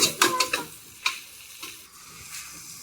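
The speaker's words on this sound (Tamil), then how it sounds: "அதில் வந்து முந்திரி திராட்சையை சேர்த்துக்கிறோங்க சேர்த்துட்டு அதையும் நல்லா கலந்து விட்டு லைட்டாக வதக்கி எடுத்துக்கிறோங்க" Onions with cashews and raisins sautéing in a pan for vegetable pulao, a spoon scraping and stirring in a few quick strokes over soft sizzling that fades toward a quieter hiss, close by with no talking.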